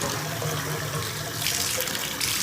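Tap water runs steadily into a bathroom sink while a sink drain stopper is rinsed clean of gunk, a continuous close hiss and splash with no talking.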